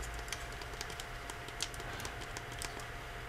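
Soft, irregular taps on a Kindle keyboard click at a quick pace, close and quiet, with no voices.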